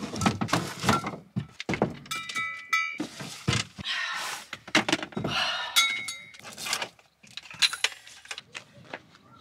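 Metal bands come off steel scuba tanks with repeated clanks, jangles and thunks of hardware, loud and close in irregular bursts over several seconds, no talking.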